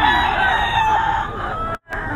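A young gray stag rooster, seven months old, crows loudly and close by, one long drawn-out call that stops abruptly near the end.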